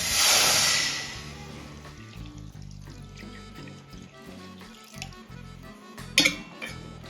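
Water being poured into a kadhai on a gas stove to boil corn for sweet corn bhel: a loud, close rush of pouring water at the start, then quieter clinks and a brief metallic knock.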